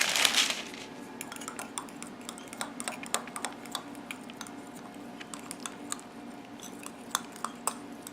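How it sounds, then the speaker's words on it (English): A utensil stirs cinnamon powder into melted coconut oil, with light, quiet clicks and taps against the bowl in an irregular rhythm, following a brief louder scrape at the start. "I'm going to mix some cinnamon powder in with that."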